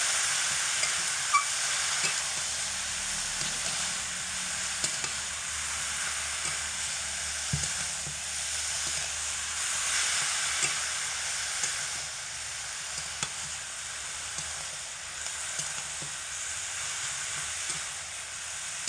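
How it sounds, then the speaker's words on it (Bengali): Chital fish with drumstick stalks and spices fries in a pan, a steady close sizzle with occasional scrapes and clinks of stirring throughout, no talking. "এবার তুমি উল্টে পাল্টে নেড়ে ফেলে ডাটার মধ্যে সমস্ত মশলাপাতি ভালো করে মেশাতে হবে"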